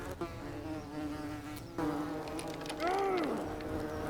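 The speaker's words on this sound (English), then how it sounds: "Oh, I'm being stung by bees." Bees buzzing in The Forgotten City video game, a steady insect drone that swells and wavers over a busy background of game sounds, with a louder close buzz passing near the end.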